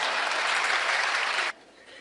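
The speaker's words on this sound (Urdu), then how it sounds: "میں قسم کھاتا ہوں یہ ہال تالیوں سے گونجتا رہے گا۔" An audience claps in a hall, a dense, loud burst of applause that stops abruptly, leaving quiet room tone.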